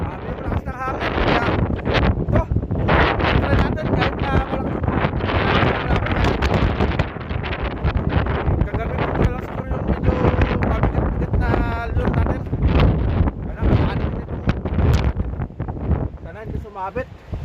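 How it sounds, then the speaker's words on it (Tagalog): Strong wind roars by a rough sea, blasting the microphone in a loud, continuous gusting rush with crashing waves beneath, and someone talks over it throughout. "Grabe yung lakas ng hangin."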